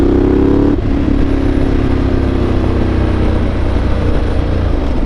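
Loud, close drone of a Ducati Multistrada 1200 Enduro engine on the move. A brief engine-note shift as the throttle closes gives way to a steady, rough running rumble with no talking.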